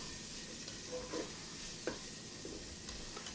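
Onions fry in a pan for vegan sausage and beans, a soft steady sizzle with a few faint stirring scrapes and clinks, quiet and close without any talk.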